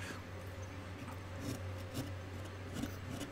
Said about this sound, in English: I'm using a gouge here, but I'm actually sort of cross-cutting my gouge marks